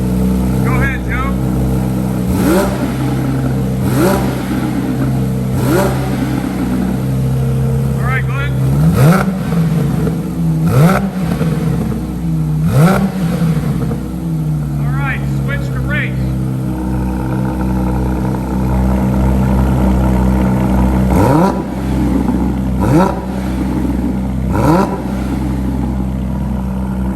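A Porsche 992 GT3 fitted with a JCR exhaust in quiet mode revs repeatedly over a steady loud idle, with each blip rising and falling in pitch and people talking at times.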